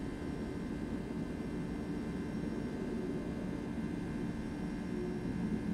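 A Boeing 757 climbs after takeoff in the X-Plane 12 flight simulator, its jet engines giving a constant, even, moderately loud roar with a steady low drone and no pauses.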